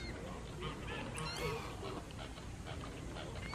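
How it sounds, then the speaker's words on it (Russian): Geese honk in a mixed outdoor flock scene, several short nasal calls rising over a constant background wash at moderate distance. "Гусь, берегись."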